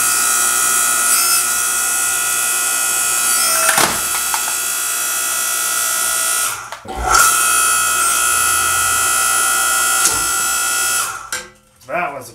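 A Central Machinery 5 ton hydraulic log splitter drones loudly and steadily as it pushes through an 18-inch aspen round, with sharp cracks of splitting wood and a brief pause in the engine hum partway.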